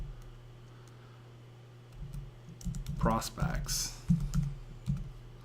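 Computer keyboard typing in short bursts of clicks at moderate distance, with someone speaking over parts of it.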